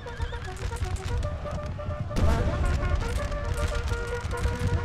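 Cavalry horses of the horse guards neigh and whinny repeatedly in a Napoleonic-era battle video game, with hoof clip-clop and a dense rumbling battle din underneath, growing louder midway.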